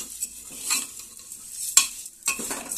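Mung lentils hiss and sizzle in hot oil tempering while a spoon stirs, with occasional sharp scrapes against the pan.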